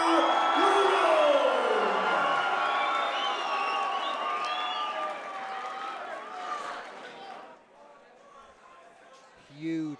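A crowd cheers, whoops and whistles for boxer Paul Loonan's entrance at his professional debut fight in Offaly. The loud roar is strongest at the start and tapers off toward the end.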